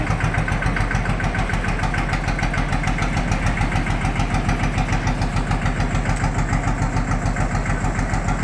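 Vehicle engine running during a drive: a steady, rhythmic mid-pitched engine chugging with a regular pulsing beat, fairly close and unbroken, with no clear rise in revs.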